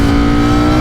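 Ducati Streetfighter V4S motorcycle with an Akrapovic exhaust revs loud and close, a dense, rich engine roar held steady for a split second with no talking.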